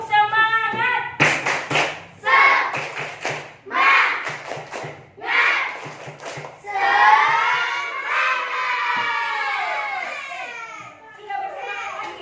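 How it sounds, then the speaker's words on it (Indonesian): A classroom of students performs a rhythmic spirit clap, sharp bursts of group clapping alternating with chanted voices, ending in sustained loud group chanting. "Oke, tepuk semangat dulu."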